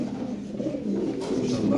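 Fancy Lahori pigeons coo on a farm, a low throaty burbling from nearby birds that continues steadily, with faint voices in the background.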